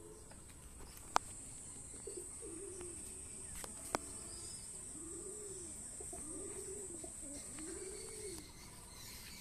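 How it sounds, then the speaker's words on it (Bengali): Kalshira pigeons coo softly in a series of rounded, repeated calls that grow more regular toward the end, faint against a quiet outdoor background with a few small clicks. "কালশিরা পায়রা দেখুন"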